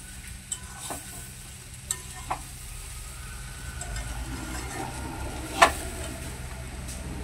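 Fried vegetables and foxtail millet rice go into simmering dal on a gas stove, with a low steady bubbling bed broken by a few scattered clinks and splashes, one louder thump near the end.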